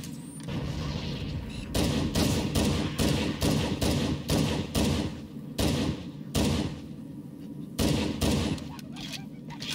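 Gunfire in Halo: Combat Evolved, on a Legendary difficulty run, with repeated loud bursts of automatic fire in a steady rhythm of short volleys over a dense battle din.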